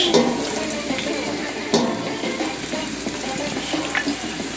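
Green onions, or scallions, stirred into a hot and spicy Jamaican chicken curry: a continuous loud sizzle with a few sharper scrapes and clatters of the spoon, close by, with no speech.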